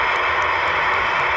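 A propeller aerobatic plane at an airshow drones steadily as it throttles back to land, a loud continuous engine roar with a faint pulsing beat and no talk.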